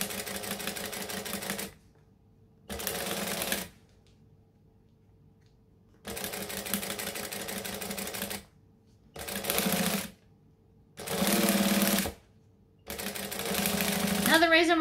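A sewing machine stitches faux suede in several distinct bursts of steady mechanical whirring, separated by near-silent pauses as the fabric is folded and guided.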